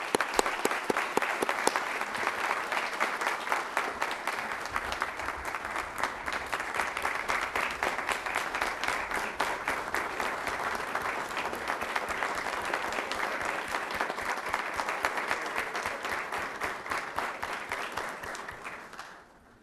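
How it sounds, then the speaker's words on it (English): Sustained applause from the audience at a Kappa Alpha Psi fraternity public meeting honoring an award recipient, a steady wash of many hands clapping for nearly twenty seconds before fading out. "Please join me in giving a round of applause to Brother Dr. Frank S. Emanuel"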